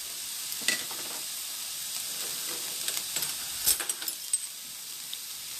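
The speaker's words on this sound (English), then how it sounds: "you just saute these till they're kind of clear" Onions sauteing in a pan, a steady broadband sizzle with brief bright crackles and a few soft stirring knocks close by, no voices.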